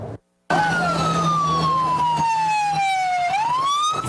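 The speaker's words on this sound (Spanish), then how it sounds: "el sonido de las sirenas policiales se volvió a tomar los exteriores del centro de privación de libertad en Guayaquil" Police car siren wailing outside a prison in Guayaquil, one loud, close wail that sweeps slowly downward and then rises again, with steady traffic and street noise underneath after a brief silent gap.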